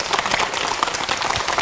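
A studio audience at a KBS television broadcast breaks into brief, dense applause, a close wash of many hands clapping at once.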